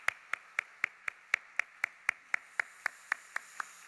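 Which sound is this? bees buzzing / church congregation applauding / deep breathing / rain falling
church congregation applauding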